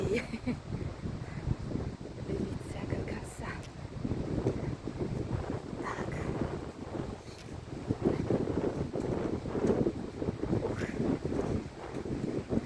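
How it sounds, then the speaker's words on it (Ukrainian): Gusty wind buffets the microphone in a constant low rumble, with a person talking intermittently over it. "в лісі вітру не чутно, а тут вітер"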